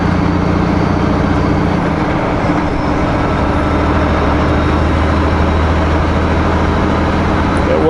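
A heavy truck engine drones loudly and steadily while the driver hunts for a missed gear, its low harmonic growl shifting pitch partway through as the gear is found, driving near Grand Forks and Greenwood, BC.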